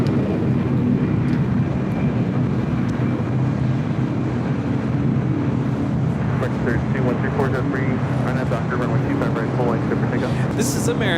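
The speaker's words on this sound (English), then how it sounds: "2811 taking off to Dallas Fort Worth on an A321." An American Airlines Airbus A321 takes off at LAX with a loud, steady jet engine roar that swells throughout, accompanied by wind buffeting and voices talking nearby.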